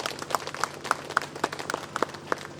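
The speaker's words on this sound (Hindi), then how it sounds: "आइए हम एक बार हम प्रत्येक की उपस्थिति के लिए जोरदार ताली बजा दें" A small gathering at the inauguration of a new shelter home and food bank breaks into sparse, separate claps, with a handful of distinct hand claps spaced irregularly over a soft background.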